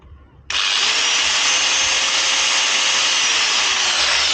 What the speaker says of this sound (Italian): posso prendere il mio flessibile. Ora vabbè, non c'è il disco, però è la stessa.